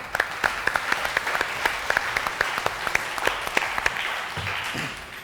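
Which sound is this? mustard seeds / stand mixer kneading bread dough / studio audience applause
studio audience applause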